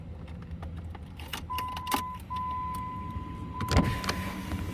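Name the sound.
truck power window going down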